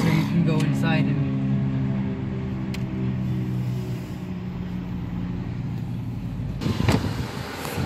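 A car drives up to a Peter Piper Pizza restaurant on Port Isabel, its engine a steady, close hum that eases slightly midway. A faint voice is briefly heard near the start.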